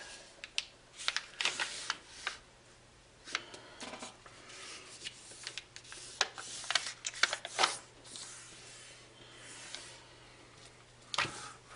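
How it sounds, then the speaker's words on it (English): Origami paper is folded into a kite base, giving close, faint crisp creases and rustles that come in scattered sharp bursts with quiet gaps between and no talk. "Folding one edge to the center line, then the opposite edge to create this kite shape"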